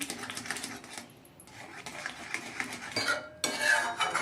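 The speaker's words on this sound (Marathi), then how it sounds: "सगळीकडून एकसारखं हलवून घ्यायचंय" A spoon stirs besan pitla in a pan, scraping and clinking against the metal in busy bursts with brief pauses between, close and fairly loud, with no voices.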